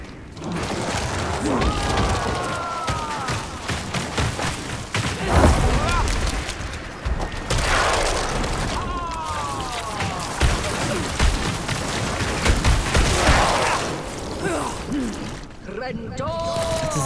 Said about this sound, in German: Dieser Explosionsangriff.